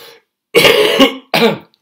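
A throaty cough followed by a short throat clearing, close and loud, with silence between the bursts.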